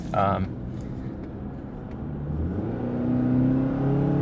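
A 2022 Hyundai Tucson XRT AWD engine hums steadily from inside the cabin, then its revs climb and the drone grows louder after a downshift, with a brief voice near the start.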